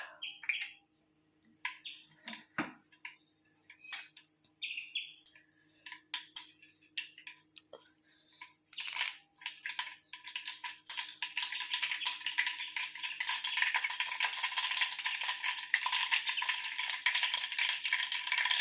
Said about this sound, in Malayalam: ആദ്യം നമുക്ക് ഉള്ളിയും കടുക് ഇട്ട് കൊടുക്കാം